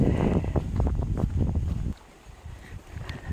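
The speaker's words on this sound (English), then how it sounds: "There's quite a wind in my ears." Gusty wind buffets the microphone during an outdoor walk, loud rumbling bursts for about two seconds and then dropping to a softer, intermittent rush.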